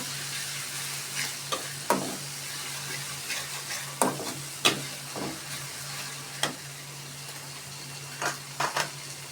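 Beef frying with chopped green chilies and bay leaves sizzles steadily in a pan while a spoon stirs it, scraping and tapping the pan in irregular clacks.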